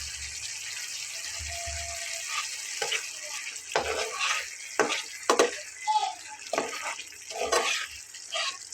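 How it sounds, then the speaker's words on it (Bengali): Tomatoes going into a sizzling fried spice paste for a Bengali fish curry, a steady hiss with bursts of louder crackling and scraping as they are stirred, no voices heard. "তো আমি এখন টমেটোগুলো দিয়ে নিচ্ছি।"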